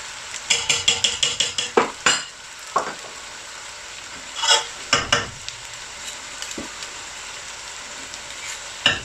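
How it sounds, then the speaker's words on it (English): Butter ghee frying in a family-size pot of chicken dhansak. A rapid run of ladle clanks against the metal opens over a constant sizzle, followed by slower scraping strokes and occasional knocks, close up with no voices. "make sure it doesn't burn into the bottom, guys. You have to stir it well."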